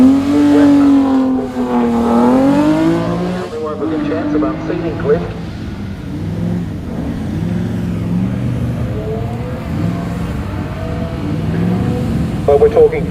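A Holden 6-cylinder historic touring car engine howls loudly as it revs up and down through the gears, close and sustained, with race commentary running over it.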